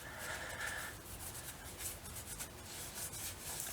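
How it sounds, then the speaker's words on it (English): A cloth wipes dirt and debris off a Subaru WRX STI brake caliper, making soft, faint rubbing strokes that continue steadily and close up, with no voices. "you're going to want to wipe down your caliper just to make sure that there's no debris or dirt getting into your pistons"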